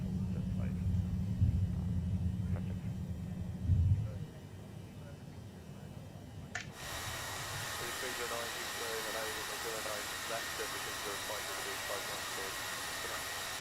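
British Airways A321 in Microsoft Flight Simulator 2020 on its takeoff roll: a low steady engine rumble, then an abrupt switch to a loud broadband jet roar with a rhythmic rattling pulse beneath it, while a voice talks over the start.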